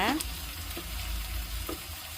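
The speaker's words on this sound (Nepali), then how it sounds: "प्याज फ्राई भइसक्यो।" Sliced onion frying in a pan for a soybean and potato curry, giving a soft continuous sizzle with faint stirring scrapes and a few clinks, close and alone.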